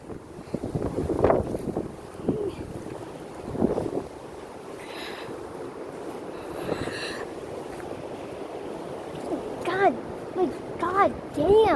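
Strong gusts from a March 2021 windstorm in Ronkonkoma, New York, batter the microphone in heavy, surging rumbles that swell and fade, while a man exclaims loudly over them.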